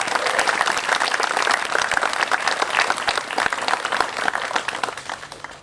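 Wedding guests applaud in a dense, continuous burst of clapping from a crowd nearby, gradually thinning toward the end.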